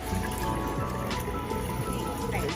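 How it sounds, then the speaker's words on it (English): Water is poured onto a potted Supertunia plant whose soil has just been given fertilizer, making a steady close trickle and splash that runs throughout. "I'm going to go ahead and add some water"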